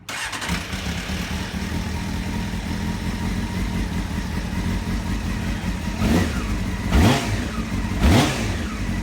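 A 1991 Honda CBR 600F2 motorcycle under rebuild starts and settles into a loud, steady idle, then the engine is revved in three quick blips near the end.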